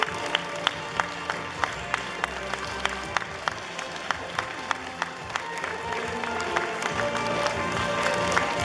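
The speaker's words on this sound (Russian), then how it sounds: "под бурные аплодисменты зала" Steady applause from a large crowd fills a festival hall, with sharper individual claps standing out and a faint murmur of voices underneath.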